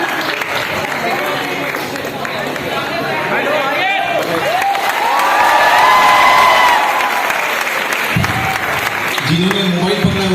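Audience applause and cheering at a motivational talk in Patna, a dense crowd clapping steadily with a murmur of voices, swelling slightly mid-way before a voice cuts in near the end.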